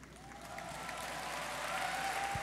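Audience at the E3 2017 PlayStation press conference breaking into broad applause that swells steadily louder, a dense wash of clapping from a large crowd.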